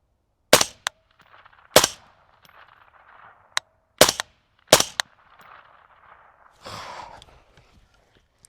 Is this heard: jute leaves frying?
no